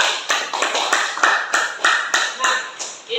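A small group of students clapping for their classmates in group 3 at a school session, about eight or nine distinct claps in a steady, slightly uneven rhythm, fairly close and moderately loud.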